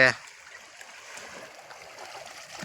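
Steady rushing of a flowing stream after the first monsoon rain in Varal village, Sihor taluka, Gujarat, moderately faint and continuous, after a brief sound at the very start.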